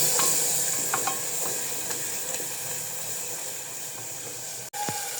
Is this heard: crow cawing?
no